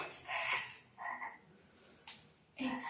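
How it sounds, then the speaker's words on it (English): A frog croaks in a few short, raspy bursts separated by brief pauses, close and clear with no other sounds around it. "It's a frog."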